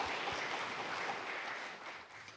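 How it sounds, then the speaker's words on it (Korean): Applause from a church congregation during an afternoon praise service, a broad steady clatter of clapping hands filling the room and tapering slightly toward the end, with no voices over it. "우리 주께 다시 한번 영광의 박수 올려드립니다"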